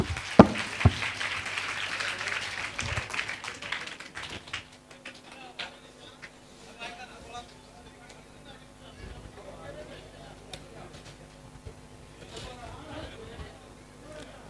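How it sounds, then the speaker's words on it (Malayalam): An audience at a mentalist's stage show breaks into a dense burst of clapping that fades after a few seconds, and crowd chatter and talking continue afterward. "എല്ലാവരും ക്ലാപ്പ് ചെയ്യാ."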